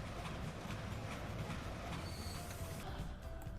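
A train rolls past on an early-1800s-style rail line in the video game Transport Fever 2, a steady dense rumble of wheels and wagons with faint squeals, continuous and fairly close throughout.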